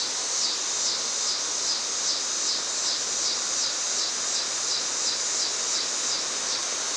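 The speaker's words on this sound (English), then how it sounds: "A lot of cicada noises." Cicadas drone steadily in a dense, high buzzing chorus with a slight pulsing rhythm during a thunderstorm in southeastern Pennsylvania, continuous throughout with no voices.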